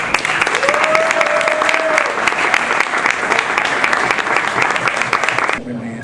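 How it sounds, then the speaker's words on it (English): An audience gives steady, full applause that fills the room, with a voice briefly rising over it before the clapping cuts off near the end. "you should applaud yourselves as well"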